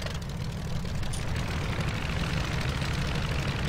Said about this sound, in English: So, I will ignite my engine.